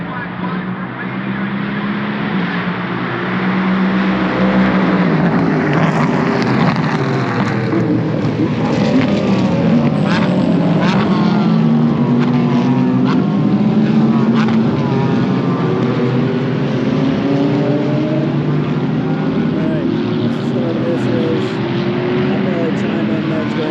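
Racing motorcycles at Mid-Ohio, turn 4, make a continuous loud engine roar for the whole stretch, with engine notes sweeping up and down as bikes pass. Someone speaks over the noise.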